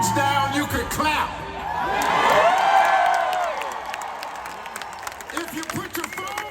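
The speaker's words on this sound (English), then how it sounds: "If you put your phones down, you could clap." Large audience at an Expo 2020 Dubai event clapping, whooping and cheering as a celebrity host is introduced, the applause swelling to a loud peak mid-clip before fading under scattered shouts.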